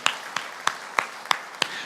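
Six sharp, evenly spaced claps in a steady beat during a church sermon, close and moderately loud, with faint room noise between them.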